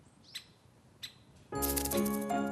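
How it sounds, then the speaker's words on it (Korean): A great spotted woodpecker chick takes off from its nest in a summer forest: a couple of faint chirps, then a sudden sustained burst of wing flapping with birdsong. "둥지 밖으로 날아오릅니다."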